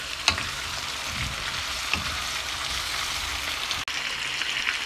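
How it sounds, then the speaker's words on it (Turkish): Potatoes, tomatoes and leek sauté in a pan with a steady, moderate hiss of frying, marked by a few stirring scrapes and a sharp knock near the end; nobody speaks. "patates, domates, biraz az kısmını pırasa koyuyoruz. Kavuruyoruz."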